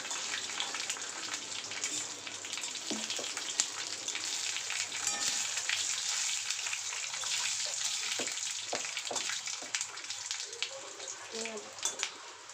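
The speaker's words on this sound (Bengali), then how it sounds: "এই যে ফোড়নের জন্য নিয়েছি তেজপাতা, শুকনো লঙ্কা আর 5 ফোড়ন, এটা এর মধ্যে এই যে দিয়ে দিলাম। তেল গরম হয়ে গেছে।" Bay leaf, dried chilli and five-spice tempering sizzles in hot oil, a loud steady hiss and crackle close by that carries on throughout with faint speech and light clinks underneath.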